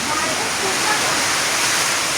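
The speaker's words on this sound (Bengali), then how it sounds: "ওই দেখো কি বাতাস" Strong wind roars as a dense, steady broadband rush through a village on a stormy, rainy day, loud and continuous, with a voice briefly heard beneath it.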